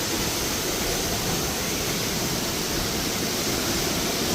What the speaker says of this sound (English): Pretty awesome waterfall here.